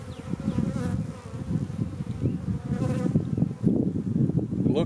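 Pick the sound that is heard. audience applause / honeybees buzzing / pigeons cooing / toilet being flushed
honeybees buzzing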